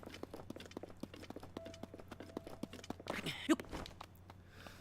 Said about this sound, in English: Can travel by horse.